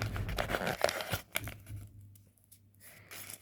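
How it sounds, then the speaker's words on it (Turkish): Package from a friend being torn open by hand: bursts of ripping and crinkling wrapping paper for a few seconds, then a quieter pause before more rustling, with no talking. "Bugün sizler böyle arkadaşımın okula bana yaptığı paketi açıyorum"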